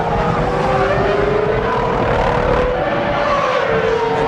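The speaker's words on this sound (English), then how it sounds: "Misfiring that you're hearing in the background is the traction control on these cars" Formula 1 car at the 2003 Australian Grand Prix with traction control misfiring, a loud continuous engine drone with a slowly shifting pitch, close and unbroken for the whole span with no voices.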